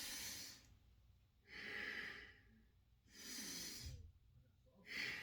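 Taoist reverse breathing during a cat-cow stretch: three slow, audible breath cycles with airy inhales and exhales through the nose, rhythmic and close but quiet.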